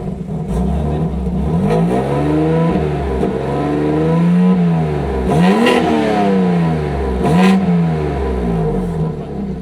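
A car engine revs hard with its exhaust valve open, loud and close, the pitch rising and falling in repeated sweeping revs over a steady throaty drone.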